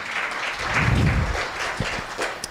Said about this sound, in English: kindly give a hand of applause to Yvonne as she joins us on stage